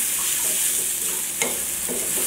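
Onion and garlic frying in mustard oil, a steady loud sizzle filling the whole stretch, with a few stirring scrapes in the pan and no voices.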